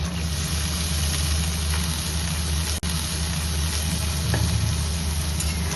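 Green peas and chopped onion fry in hot oil in a wok, a continuous even sizzle with a low steady hum underneath and one brief sharp click midway.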